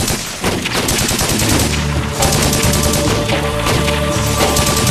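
Gunfire in a Pashto drama battle scene, dense rapid bursts of shots rattling continuously and loudly over a rumbling backdrop.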